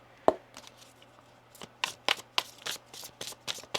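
Tarot cards are shuffled by hand during a reading, a soft isolated snap followed by a rapid run of crisp riffling bursts, close and fairly quiet, with no one talking.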